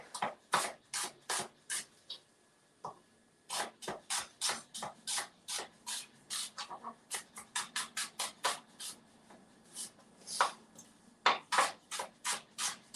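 Rapid, steady knife strokes chop through vegetables on a board, dozens of crisp short cuts in quick rhythm, close by, with no talking.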